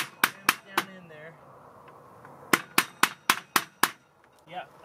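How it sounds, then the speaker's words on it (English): Hammer striking a flat blade screwdriver jammed against a rivet on an RV, sharp metallic blows: three quick hits, a pause, then five more in a steady rhythm, close and loud, with faint background noise between. "you take a flat blade screwdriver and a hammer. And just hit it into the, jam it down in there."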